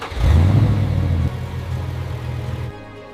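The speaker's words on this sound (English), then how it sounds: "One push of the button, and the heart of the G63 finally comes alive again." A restored Mercedes G63, sitting unused for 20 years, cranks and fires into a loud, deep engine roar up close, drops back to a steady rumbling idle, then quiets.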